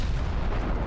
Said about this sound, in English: That was a huge bomb.